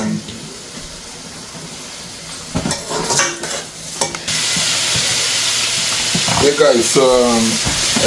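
Saltfish sizzles loudly and steadily in a frying pan, with utensil scrapes and clatter of cookware on top of the continuous hiss.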